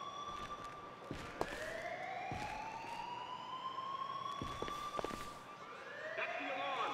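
In a prison roleplay video game, an alarm siren wails in a rising, repeating tone with voices and footsteps around it, moderately loud and continuous throughout.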